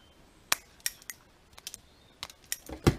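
Small sharp snips and clicks of fishing line being cut with a tool while making fishing weights, several brief crisp ticks spaced irregularly, close and fairly faint, ending in a louder handling rustle.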